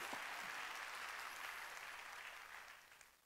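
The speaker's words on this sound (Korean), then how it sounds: "박수치고 잘 살길 원하는 걸 믿어" A church congregation claps together during a Sunday service, a broad sustained wash of hands that holds steady and then fades toward the end.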